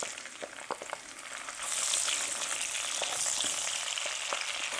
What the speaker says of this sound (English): I'm going to add half a cup of chopped onion